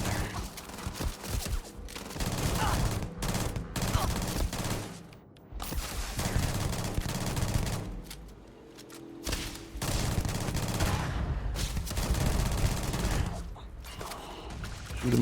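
Sustained gunfire in the space RPG Starfield, a dense, loud run of bursts and fusillades that continues nearly unbroken, with only a brief lull around the middle before the shooting resumes at full intensity.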